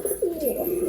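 A Madrasi high flyer pigeon gives a single rolling coo, close and clear, with no voices around it.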